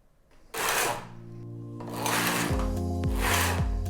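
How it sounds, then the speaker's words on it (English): A Knittax knitting machine knits needles off as the carriage is pushed across the bed in long grinding, whirring sweeps, one then another with rhythmic clicks, close and loud with no voices. "now I'm going to knit these needles off the machine"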